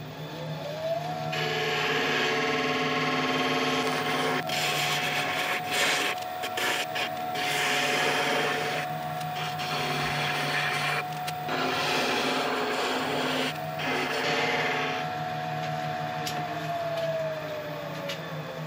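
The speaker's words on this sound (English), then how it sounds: "I'm just going down to a spindle gouge just to help with tidying up these areas." A spindle gouge cuts on a lathe-turned greenheart and purpleheart wooden mallet, a steady motor hum under gritty scraping passes, continuous and close for most of the clip.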